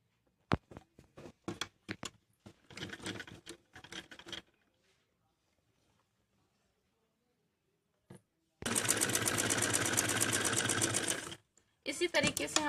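Sewing machine stitching Patiala salwar pieces: a loud, rapid, steady mechanical rattle in a burst of about three seconds, then a shorter burst, with short clatters of handling beforehand.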